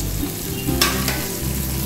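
Vegetables and dal ingredients fry in a pan for a Bangladeshi dish, a close, steady sizzle with a soft stirring scrape partway through.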